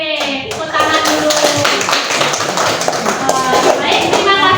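A classroom full of people claps in sustained applause after a group presentation, dense and close, with some voices mixed underneath.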